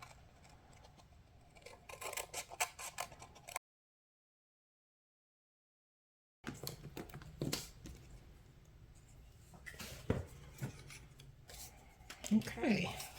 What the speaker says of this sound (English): we'll just use our snips to trim around the edge